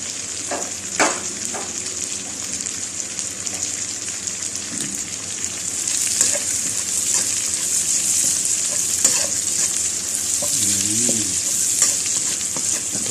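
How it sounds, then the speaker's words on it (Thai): Lemongrass fries in hot oil with pork belly, a steady loud hiss and crackle running throughout, with occasional stirring clinks and scrapes and no talking. "หลังจากนี้เราก็มาใส่ ตะไคร้นะครับ ก็เจียวไปเลยนะครับ"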